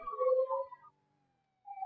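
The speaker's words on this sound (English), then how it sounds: "use some lights and sirens here to get this girl to where she needs to go" A police siren from the video game Grand Theft Auto V wails in a short rising and falling sweep, breaks off into a pause, then starts up again, fairly faint and with no one talking over it.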